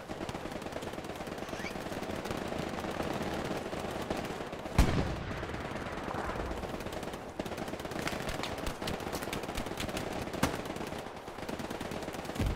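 Sustained suppressing machine-gun fire in the video game Hell Let Loose rattles on as dense, continuous bursts, punctuated by a few louder, sharper shots and nearby explosion-like thumps.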